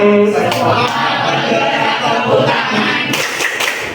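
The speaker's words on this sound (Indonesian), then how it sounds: "Sekolah penggerak tepuk tangan." A school class at SMA 2 Tanggul bursts into group hand clapping, a dense burst of many palms at close range that fills the few seconds before trailing off.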